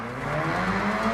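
Engine drone of a stock Mazda RX-7 in a racing video game, a steady buzzing hum with tonal layers that holds for about a second, close and fairly loud with no talk over it.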